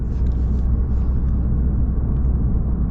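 A 2024 Lexus RC 350 AWD cruising on the road, heard as a steady, smooth low rumble of engine and tyre noise inside the car, continuous and even throughout with no talking.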